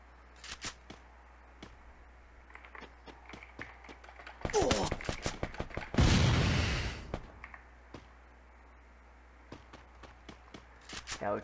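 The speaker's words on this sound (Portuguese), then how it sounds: "É, o tiro tá comendo solto." Free Fire video game gunfire crackles in scattered shots and rapid bursts, with a couple of louder explosive blasts in the middle.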